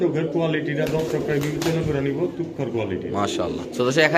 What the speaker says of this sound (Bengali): এখানে আছে একটা কবুতর দামাসিন